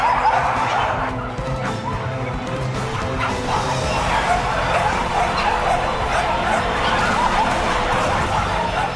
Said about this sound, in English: Hundreds of dogs, row upon row of cages